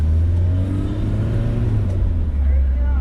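A BMW E30 engine drones steadily with a deep, low rumble as the car accelerates while driving, the note rising slightly near the end, with faint cabin noise throughout.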